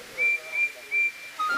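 Percy, a cartoon steam locomotive, gives a run of short, shrill whistle toots at a station, four quick peeps with the last one lower, heard up close.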